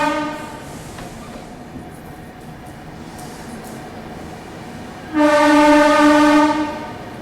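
The Chennai Rajdhani Express rumbles along the rails with a steady low roar, then a loud, sustained horn blast sounds close by for a couple of seconds before fading.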